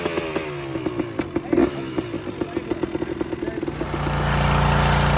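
A cold two-stroke KTM dirt bike engine putters in a rapid, uneven idle of popping bursts, then revs up into a loud, sustained buzzing drone close by.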